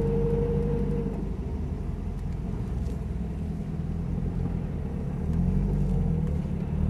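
A car rolls slowly through the Nürburgring Nordschleife car park, a low, steady engine rumble close by that swells slightly near the end, with no talking over it.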